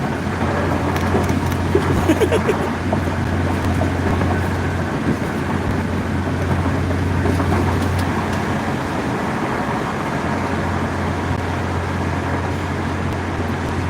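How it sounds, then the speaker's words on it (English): Road noise inside a moving truck with the windows open: a loud, steady low rumble and rushing air that holds for the whole stretch, with no one talking. "I know it's loud because I'm on the road."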